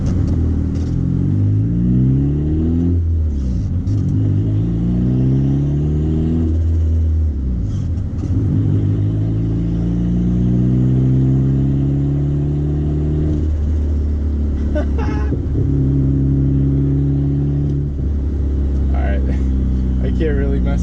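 Turbocharged Honda Accord CD5 running lean, its engine revving up and down repeatedly with rising and falling tones, with a cheap imitation HKS blow-off valve on it, loud and close, with someone talking over it.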